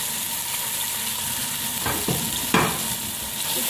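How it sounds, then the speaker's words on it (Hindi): Bell pepper, carrot and cabbage stir-fried in hot oil over high heat for Chinese egg fried rice give a steady broadband sizzle, with two brief louder scraping stirs partway through and no talking. "अब हम इसमें अपनी सब्जियां शामिल करेंगे, वेजिटेबल, पहले शिमला मिर्च डालेंगे"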